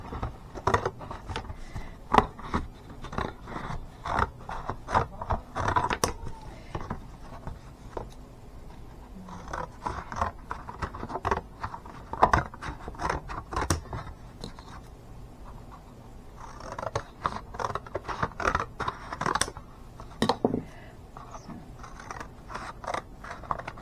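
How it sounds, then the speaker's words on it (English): Scissors cut through paper for a rainbow rock craft: a steady run of sharp, close snips and rustles for the whole stretch, with short pauses between bursts. "So then I will cut this piece out, and I'm just going to use my scissors here."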